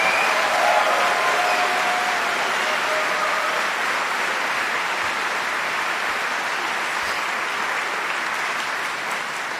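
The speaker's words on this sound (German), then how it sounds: "hier gleich mal zum Üben einen wunderbaren Applaus" Sustained applause from a concert audience for a big band, a dense, even wash of clapping filling the hall for nearly ten seconds and tapering slightly at the end.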